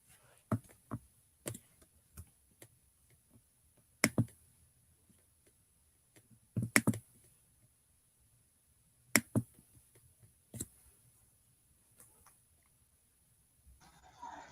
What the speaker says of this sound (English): Awkward silence, so I shall fill it in with my keyboard noises.